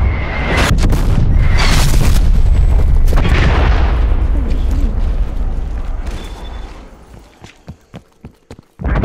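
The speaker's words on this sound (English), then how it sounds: "Net call incoming artillery." Incoming artillery pounds down in the Call of Duty Black Ops Cold War multiplayer beta on the Cartel map: a run of heavy, close booms rolls together for several seconds, then fades into scattered sharp cracks.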